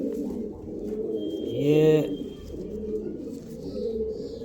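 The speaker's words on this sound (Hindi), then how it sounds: "बिल्कुल ओरिजिनल राजन वाला कबूतर है भाई ये" A slender-bodied pigeon with purple feet gives a single soft, close coo among faint background chirps and rustling, while someone speaks briefly nearby.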